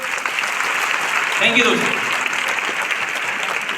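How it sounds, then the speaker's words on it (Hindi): Applause from an audience at a 20th anniversary celebration event, a dense broadband clatter of clapping that runs steadily through the clip while someone speaks briefly over it. "एक बार उनके लिए जोरदार ताली होनी चाहिए"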